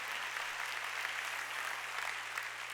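A church congregation at a Sunday worship service claps steadily, a continuous even patter of many hands with a low electrical hum beneath.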